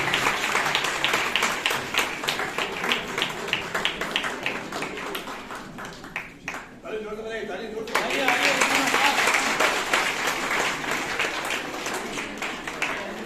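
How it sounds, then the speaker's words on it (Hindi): An audience at an Aipan art competition in Nainital's Govardhan Hall claps steadily, the applause dipping briefly around the middle before swelling back full and dense, with a voice heard during the lull. "तालियां बजाते हैं कृपया करके।"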